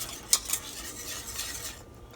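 A wire whisk stirs cheese sauce for homemade macaroni and cheese, scraping and swishing steadily in a pot, with two sharper metallic clicks near the start and the motion fading out at the end.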